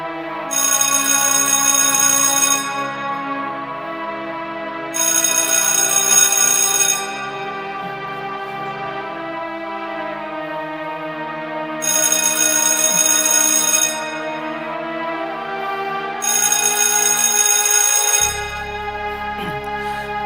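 A telephone rings in four long electronic bursts separated by short pauses, loud and close, over a steady sustained tone.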